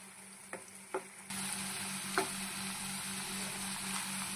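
Cashew nuts fry with green chillies and curry leaves in a pan, a continuous close sizzle that swells louder after a couple of early stirring knocks, with a few more scrapes later.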